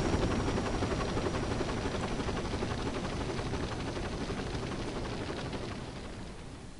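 Helicopter in the video game Dirge of Cerberus, a loud steady rotor roar with rapid pulsing chop, continuous and slowly fading slightly over several seconds.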